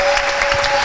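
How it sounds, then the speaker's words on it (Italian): A basketball crowd at a women's Serie A2 game applauds, a short, loud and steady wash of clapping with a faint voice beneath. "Sono già scattati gli applausi"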